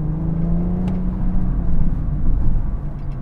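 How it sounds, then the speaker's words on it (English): A Dinan-tuned 2016 BMW 340i xDrive with over 400 bhp and an automatic gearbox accelerating hard, its engine note rising in a loud, close whir with shifts in pitch as it pulls. "Like when you floor it, it'll downshift a couple times"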